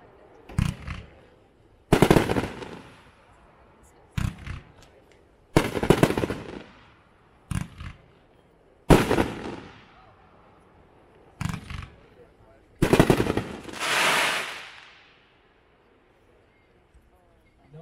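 Royal to None, a 20-shot firework cake at a demo show, fires booming bursts in clustered volleys separated by short gaps, with crackling tails and a final sizzling fade.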